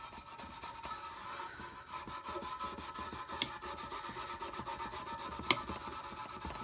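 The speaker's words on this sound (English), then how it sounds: "I've got me a little piece of wire wool and I'm just going to work my way around this." Wire wool rubs back and forth over a rusty metal part from an old Hoover vacuum cleaner, a close, steady rhythmic scratching rasp with quick repeated strokes and no talking.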